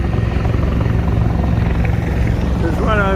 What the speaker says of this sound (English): There's two helicopters coming for me now.